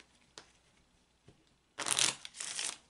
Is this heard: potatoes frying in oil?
no